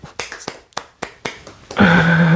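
A church congregation at a special prayer meeting claps twice in quick succession several times, sharp close-up hand slaps in an uneven rhythm. A voice then starts speaking near the end.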